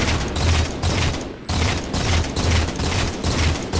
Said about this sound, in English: But they have fuel rod guns,